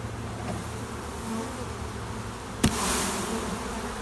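Honey bees buzz in a steady, close drone inside a cell starter box, with one sharp bump or tap partway through.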